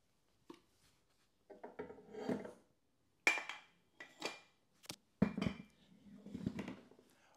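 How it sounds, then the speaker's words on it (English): Parts of a home office chair are fitted together: scattered knocks, rubs, scraping and plastic-on-metal clatter in irregular bursts, close and fairly quiet, with no talking. "So let's crack on and get this thing assembled."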